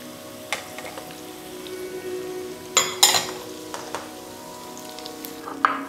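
Squid, petai and tomato stir-fry in a hot pan with a steady close sizzle, broken by a few sharp clinks of a utensil against the pan.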